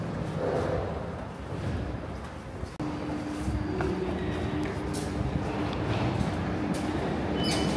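A Paris Metro Line 2 train in an underground station gives off a steady mechanical rumble with a faint whine and occasional clanks, moderately distant and continuous.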